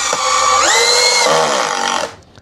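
An Ecosen power drill runs at a steady high whine, its pitch climbing and then shifting partway through before it stops abruptly after about two seconds.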